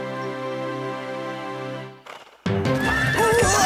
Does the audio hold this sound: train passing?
no